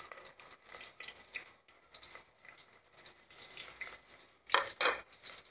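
Chopped onion drops into hot oil in a clay pot for a Malvani chicken rassa and fries with a faint, steady sizzle, and a louder burst of crackling comes near the end.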